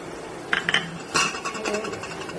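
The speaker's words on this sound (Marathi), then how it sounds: "व्यवस्थित परतून घेऊया" Cluster beans with peanut powder being stirred in a pan on the stove, heard as a few close metallic clinks and scrapes of a spatula against the pan over a soft frying hiss.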